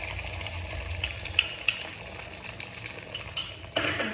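Beaten eggs for an omelette cooking in a pan on a stove, a low sizzle beneath intermittent sharp clinks of utensils against the pan and a louder scrape near the end, no voices.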